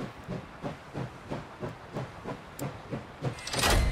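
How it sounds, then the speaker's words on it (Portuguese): A steam train comes to a halt in the game Last Train Home, releasing rhythmic, evenly spaced chuffs of hissing steam that slow, then a louder sustained steam blast at the end, with no talking. "Vamos parar o nosso trem aqui."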